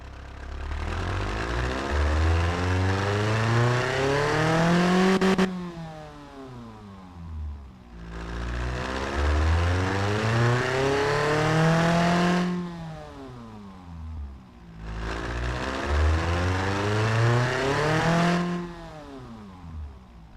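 A simulated car engine in the game Automation revs up repeatedly in three long sweeps, pitch climbing each time before dropping back to idle, loud and close, with no talking.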